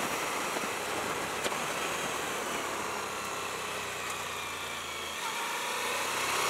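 A 2018 Suzuki V-Strom 1000XT motorcycle is being ridden, its engine drone steady and close under a broad rush of wind and road noise, with no talk.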